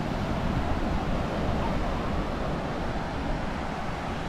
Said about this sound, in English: Oh, it's a real nice beach, man. Wow. Lido Key, you got the beach.